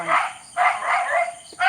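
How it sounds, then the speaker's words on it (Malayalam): Three loud, close barks from a dog, each a short rough burst, spaced evenly over a couple of seconds, on a night of Onam firecrackers. "ഇവിടെ ഭയങ്കര സൗണ്ട് പട്ടിയെല്ലാം കൂടെ കിടന്ന് അതിനാ കുറയ്ക്കുന്നത്"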